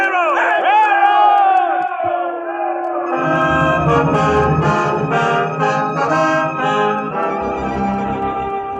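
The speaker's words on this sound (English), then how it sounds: "People cheering and yelling" A crowd of townspeople cheers and yells as riders come in on a cattle drive into Abilene, a big roaring mass of whoops and shouts, loud and close, preceded by a swelling orchestral flourish in a radio drama.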